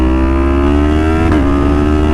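A Yamaha MT-series motorcycle engine drones loud and close in a steady high rev during a wheelie, with a brief pitch wobble near the end.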